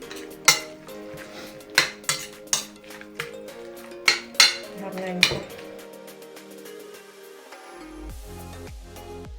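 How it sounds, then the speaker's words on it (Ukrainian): A utensil stirs chebureki dough with water in a bowl, giving a series of sharp clinks and knocks against the rim followed by softer stirring and faint background noise. "Додаю 50 грам е, водички. У мене така стопочка є. 50 грамова. І перемішую."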